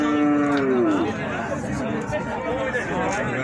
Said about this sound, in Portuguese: Que gado chegando aqui na feira, ó.